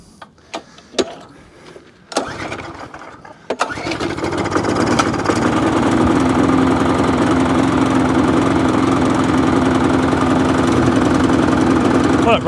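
A lawn mower engine cranks in a few short bursts, then catches and runs loudly and steadily but roughly, with an uneven idle throughout, after priming.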